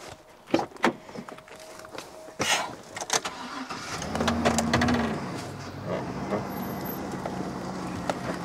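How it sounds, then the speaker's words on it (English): A vehicle on a farm starts up and pulls forward, with a few clicks and thumps before the engine settles into a steady, fairly close hum. "gonna pull forward"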